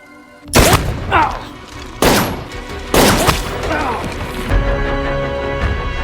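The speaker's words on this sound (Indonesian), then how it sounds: "Bentrokan pun terjadi dan keduanya saling melepaskan tembakan." Gunfire exchanged in a film scene: several heavy, booming shots and thuds in bursts a second or so apart, loud and close, followed by a lingering rumble.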